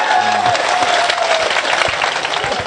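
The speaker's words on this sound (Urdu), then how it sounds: "پوری تالیاں بجا دیجیے پورا مجمع مشاعرے کے لیے" An audience clapping at a mushaira poetry gathering, dense loud applause from a large crowd filling the whole moment.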